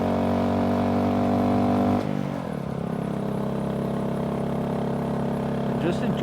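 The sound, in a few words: Honda Grom motorcycle engine accelerating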